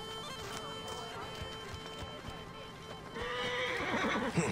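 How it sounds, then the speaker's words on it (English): A horse whinnies and its hooves clip-clop in Assassin's Creed Origins, mixed with game ambience and effects, the neigh rising loudly toward the end. "I cannot fast travel. I must take my horse."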